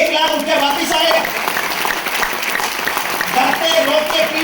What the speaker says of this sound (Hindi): दिल से एक ताली बजाएंगे